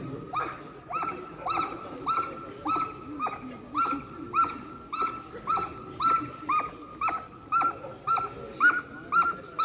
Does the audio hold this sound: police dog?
yes